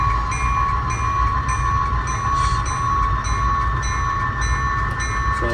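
Model train pulling nine cars plus a caboose into a yard, a steady close-up mechanical rumble and whine with a constant motor hum and faint metallic clicks.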